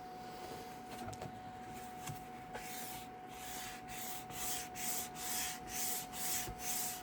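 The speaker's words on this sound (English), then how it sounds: "I'm using my whiteboard eraser. To go over that." A whiteboard eraser scrubs back and forth across inked paper, soft papery rubbing that starts as a steady hiss and settles into a regular stroke-by-stroke rhythm, quiet and close.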